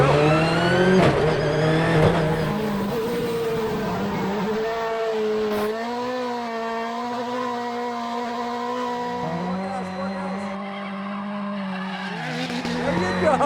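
Travis Pastrana's 862bhp Subaru skids through a gymkhana run, its engine wailing and shifting in pitch while the tires squeal continuously, loud and close for the whole stretch, with people talking over it.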